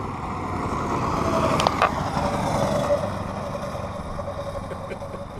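A go-kart engine hums steadily during a test run, a continuous mid-pitched motor drone at moderate distance with faint shifts in intensity and no talking.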